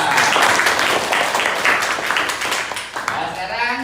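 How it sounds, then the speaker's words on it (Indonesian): A classroom group applauds with dense, continuous clapping close by, sustained throughout with voices mixed in underneath. "Tepuk tangan ke kelompok 2."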